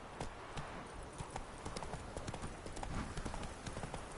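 Roach, the horse in The Witcher video game, gallops with quick, dense hoofbeats, a fast irregular clatter heard close and fairly quiet throughout.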